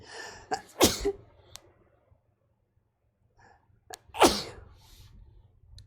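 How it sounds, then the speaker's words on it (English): Two loud, close sneezes a few seconds apart, each a sharp burst with a short breathy intake before it, quiet pause between. "I had to sneeze really bad, apparently."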